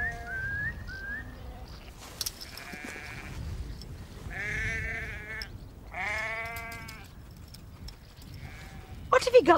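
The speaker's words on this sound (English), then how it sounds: "Some of the sheep tried to go the wrong way, but Cal soon rounded them up." Sheep bleat repeatedly and shift about while a working dog herds them outdoors, with hoof clatter and movement under intermittent talk; the calls rise and fall at moderate distance, and a sharper burst comes near the end.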